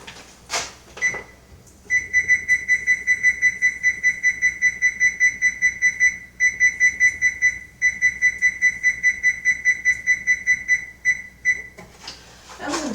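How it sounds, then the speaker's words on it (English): A kitchen timer set while beans cook on very low heat beeps loudly and close in a rapid, steady series of pulses, broken by a few short pauses, with no voices. "I'm gonna set a timer."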